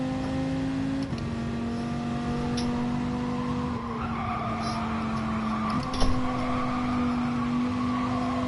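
Rally car braking hard on a practice stage run, its engine note dropping through gear changes with a brief tire skid and a bump near the end, loud and close throughout with no talk.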